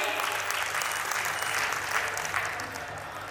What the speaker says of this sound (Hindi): जोरदार तालियां एक बार अपने लिए।